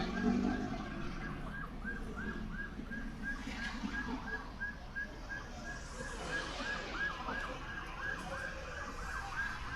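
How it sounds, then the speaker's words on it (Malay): An ambulance siren wails with a steady repeating pulse throughout, moderately distant, over traffic and road noise at the scene of an overturned trailer truck. "Ambulans."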